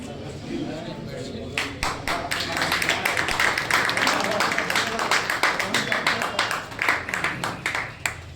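Audience clapping at a felicitation ceremony for judicial service exam passers in Aurangabad, a steady run of sharp, close hand claps that starts after a moment of talk, with voices speaking over it.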